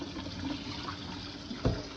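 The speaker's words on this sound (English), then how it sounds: "the inside of the bucket I rinse with hot water first to get all the milk residue off as much as possible" Hot water sloshes and rinses around the inside of a metal milk bucket, a soft, steady watery wash with one small splash near the end.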